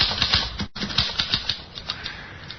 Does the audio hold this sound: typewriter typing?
yes